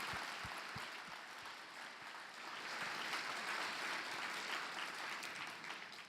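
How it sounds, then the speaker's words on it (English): Audience applause for honorees at a gala, a soft, distant wash of many hands clapping that begins with a few separate claps and then swells into a sustained round. "I think another round of applause for the 2 honorees"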